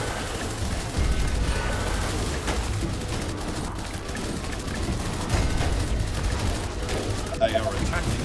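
Dense, continuous gunfire and explosions from colony defenses fighting off zombie hordes in the strategy game They Are Billions, a loud sustained barrage with scattered booms and no clear pauses.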